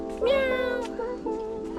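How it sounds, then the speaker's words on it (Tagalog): A cat meows once with a drawn-out, rising and falling cry, close and clear, followed by softer trailing vocal sounds. "meow."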